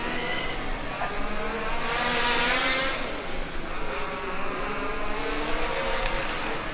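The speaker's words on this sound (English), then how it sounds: "the Gdansk car is one of the better sounding combustion cars I've heard so far" A loud, steady combustion race car engine roars continuously with a high-pitched whine at a Formula Student Germany 2023 autocross event, sustained and close throughout, with no talking.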